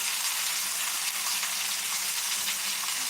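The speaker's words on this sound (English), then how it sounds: "These fried green tomatoes are popping." Fried green tomatoes crackle and pop in hot oil in a pan, a steady dense sizzle with scattered sharp pops running throughout, close and fairly loud, with no voices.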